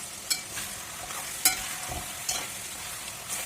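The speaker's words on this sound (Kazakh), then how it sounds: "Суы тартылды, етіміз қуырылып жатыр." Meat frying with tomatoes sizzles softly while a utensil is stirred through the pan, sending a few sharp metallic scrapes and clinks over the steady hiss.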